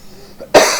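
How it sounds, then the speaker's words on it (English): One sharp, loud cough bursts out close by after a quiet moment, with a faint throat sound just before it. "I'm sorry for all the coughing."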